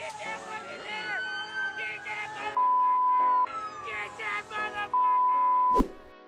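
Police car sirens wail through a roadside police chase, rising and falling with long steady tones, loud and close, with excited shouting and crowd voices over them and a sharp thud near the end.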